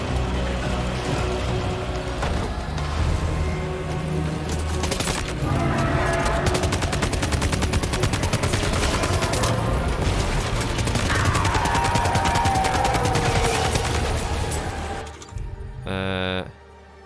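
Level 1 assault rifle gunfire in the video game Death Stranding 2, rapid sustained bursts of shots crackling densely for many seconds, loud and close, cutting off abruptly near the end.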